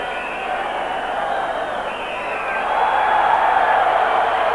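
Rugby crowd at the 1986 France versus New Zealand test, jeering at a scrum, a broad, distant roar of disapproval that swells louder toward the end.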